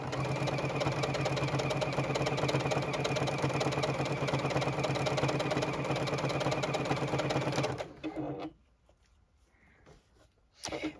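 JUKI sewing machine stitching the outer edge of a bucket hat, a rapid even mechanical chatter running steadily and loudly for several seconds before stopping, followed by faint handling noises and a brief restart.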